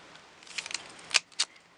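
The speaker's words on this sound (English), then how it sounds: "You take a half an inch strip, you take your scissors, your grass scissors," Grass scissors snip quickly through a half-inch paper strip, a cluster of light crisp cuts followed by two sharper snips, close and alone.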